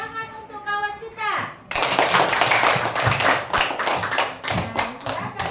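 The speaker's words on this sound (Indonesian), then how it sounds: "Tepuk tangan untuk kawan kita." Classmates in an Indonesian school classroom break into loud, dense clapping for a group that presented a craft made from cardboard waste, the burst following a teacher's spoken voice and carrying on in a busy, sustained round.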